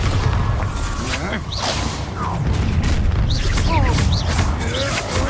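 Spell explosions from Bombarda cast in Hogwarts Legacy, with booming bursts and whooshing magical swishes over dense game combat noise and music, a voice shouting spell names around them.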